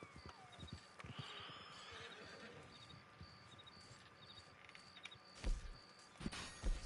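Horse hooves clip-clop faintly in the Red Dead Online video game, light irregular hoof beats under ambient game sound with occasional sharper thumps toward the end, no speech over them.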